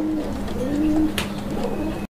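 Big Gopalganj pigeons cooing, a soft, low burbling coo repeated in short phrases, close by, with a brief flutter near the end and no talk.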